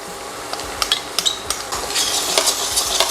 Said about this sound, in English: Gonna hit that with my onions. Have these saute up a bit.